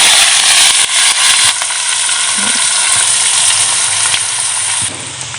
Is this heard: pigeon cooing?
no